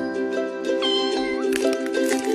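A Persian kitten in a Thai cat food advert meows repeatedly in close, clear, high-pitched cries that follow one another almost without pause, with little else in the background.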